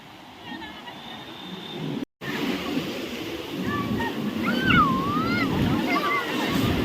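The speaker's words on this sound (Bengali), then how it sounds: "ঢেউ চলে তো" Sea waves on the beach at Puri wash in with a broad, rising surf roar that swells toward the end, with faint whistling tones on top and a brief break in the sound.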